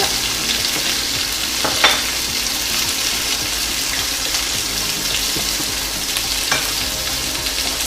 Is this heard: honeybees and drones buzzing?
no